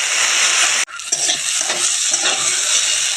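Moringa flowers sizzle and sauté in a hot pan, a loud steady frying hiss broken briefly by a pause, then continuing with stirring scrapes.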